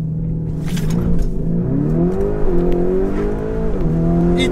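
A Lamborghini Urus, a 650-horsepower SUV, drives across a snowy lot with a steady engine drone that rises and falls in pitch as it revs, loud and close throughout.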